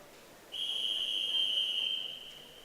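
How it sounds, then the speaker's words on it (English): A referee's whistle at an indoor swim meet gives one long, steady, loud blast lasting about one and a half seconds, trailing off over a low background hum. "The whistle goes from our referee."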